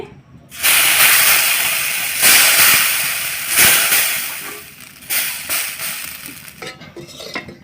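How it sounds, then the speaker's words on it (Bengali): Chita pitha, a rice cake, frying in a pan, giving a loud, steady steamy hiss with a few brief surges and soft clinks near the end; no one talks. "আর একটা ভেজে দেখাচ্ছি"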